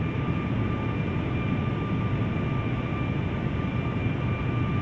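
Steady drone of a QualityWings 757-200 airliner's engines in a flight simulator game, a constant even roar with a faint high whine running throughout, no speech.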